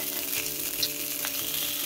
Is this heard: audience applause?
no